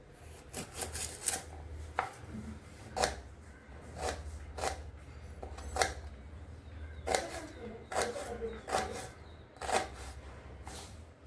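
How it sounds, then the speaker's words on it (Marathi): Onion being finely chopped on a board for a potato curry, a quiet run of irregular knife taps spaced about a second apart, close and soft with faint background noise. "कांदा कट करून घ्यायचा आहे बारीक असा."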